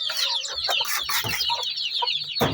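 A hen clucks in a busy, continuous stream of short, close calls, with more fowl faintly in the background of a home chicken-raising setup.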